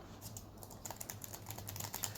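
Typing on an Honor Pad 8 tablet keyboard with stiff keys: a steady run of close, crisp keystrokes, quiet at first and slightly busier in the second half, with no voices.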